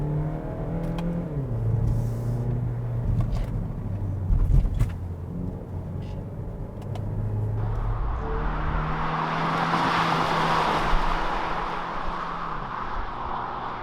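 A 2020 Kia Niro Hybrid hatchback drives along with a steady road rumble and a faint rising engine tone. Tyre and wind noise swell into a broader rush partway through, heard from inside the cabin with no talk.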